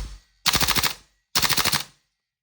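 A Double Eagle Noveske airsoft rifle fires on full auto in two loud, close bursts of about eight rapid shots each. A brief silence separates the bursts.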